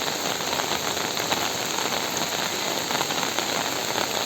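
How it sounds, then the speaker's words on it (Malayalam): Heavy rain pours steadily onto a surface, a dense continuous hiss with scattered drop patter throughout, loud and close, no voices. "നല്ല മഴയാണ് അതുകൊണ്ട് തന്നെ വീഡിയോ അത്ര ക്ലിയർ ഇല്ല"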